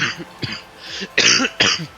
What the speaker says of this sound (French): Pardon pour toute cette toux qui est atroce à entendre